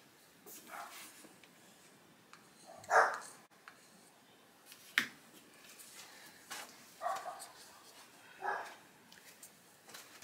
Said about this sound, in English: Please excuse my doggies barking.